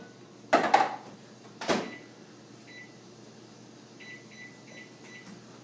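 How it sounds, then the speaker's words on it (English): A kitchen microwave oven warming corn tortillas: two solid thuds of the door being handled and shut, then a few faint, short keypad beeps over a quiet background hum. "So I'm going to throw it in the microwave."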